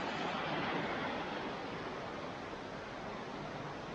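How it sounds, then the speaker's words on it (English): A small stream, a little river at the start of the West Highland Way, gives a steady broadband rush of flowing water, moderately near and unbroken throughout, with no voices. "A stream there, little river."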